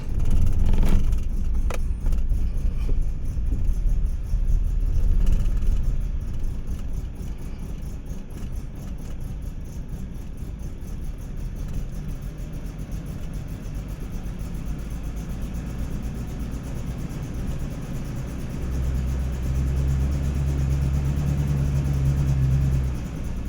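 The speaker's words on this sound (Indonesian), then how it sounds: "Sekarang kita tes start engine." A BMW E30 with the M10 four-cylinder engine runs rough with a misfire, producing a steady, loud, uneven rumble close by with a faint rattling texture and no talk.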